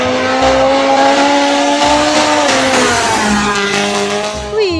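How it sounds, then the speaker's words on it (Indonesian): A rally race car in a toy or game setting revs loudly, its engine pitch holding then dropping and climbing in waves, with a brief squeal-like sweep at the end. "ada juga mobil balap rally."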